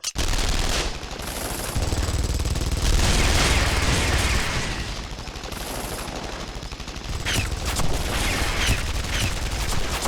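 Sustained automatic gunfire from a Guilty Gear Strive cutscene rattles loud and continuous for about ten seconds, with a short lull midway before the burst resumes.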